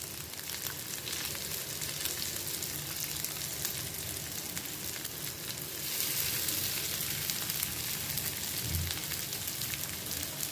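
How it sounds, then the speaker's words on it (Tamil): Prawns fry in a little oil on a grill pan over a medium flame, giving a steady, dense sizzle that holds for the whole stretch and grows slightly louder partway through, with no talk. "மீடியம் ஃப்ளேமில் வச்சு இதை ஃப்ரை பண்ணி எடுத்துடலாம்."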